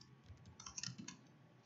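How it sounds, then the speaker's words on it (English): Quiet computer keyboard typing while entering input into a Java program, a short run of soft irregular key clicks ending in a firmer press of the return key, close by and alone. "I was entering stuff. I hit the return key to tell Java that I was done."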